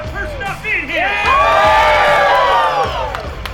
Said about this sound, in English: Let's hear it, cheer for that person up in here.